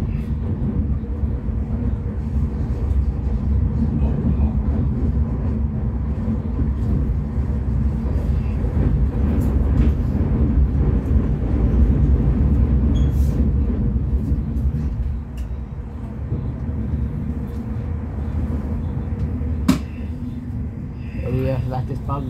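A continuous low rumble of a train in motion, steady and fairly loud, with a faint clunk near the end and a murmur of voices.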